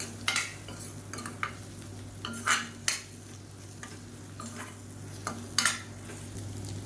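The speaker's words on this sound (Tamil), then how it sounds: "இப்போ இந்த முட்டையை வந்து நல்லா ஸ்க்ரம்பிள் பண்ணிக்கலாம்" Three eggs being scrambled in hot oil in a pan for egg noodles: a quiet, steady sizzle broken by irregular scraping strokes of a utensil against the pan, close and alone.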